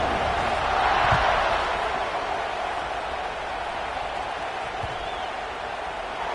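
Stadium crowd roaring at kickoff in a college football video game between Duke and NC State, a dense steady wash of cheering noise, distant and sustained, with a faint thump or two.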